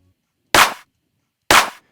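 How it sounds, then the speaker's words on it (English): A hard, sharp clap sample from a music production session in Ableton hits twice with dry, bright bursts about a second apart and silence between. "And it's just a really hard clap sound."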